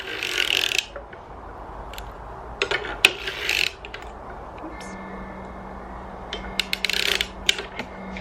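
Sock knitting machine being worked by hand as needles are lifted, giving bursts of dry rasping and clicking mechanical noise in short clusters separated by quieter gaps, with a low steady hum underneath.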